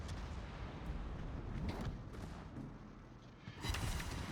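Naval gunfire in World of Warships from a Tier X Schlieffen battleship, a rumbling series of booming salvos and distant blasts over a steady low roar, moderately loud with a heavier burst at the end.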